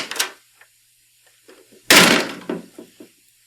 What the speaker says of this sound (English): So there is a door slamming